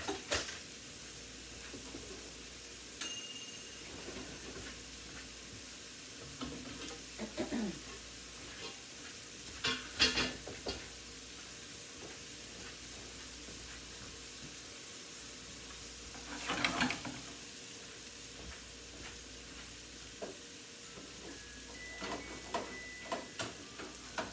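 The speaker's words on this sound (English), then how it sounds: "I'm gonna put the bacon over here." Bacon and sausage frying in a pan, a soft steady sizzle with intermittent scraping and clatter as the meat is stirred and moved.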